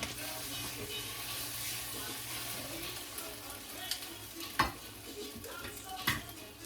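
Egg-soaked bread sizzling steadily in a frying pan as French toast, a soft continuous hiss close by, with a few clinks of utensils and quiet talk in the background.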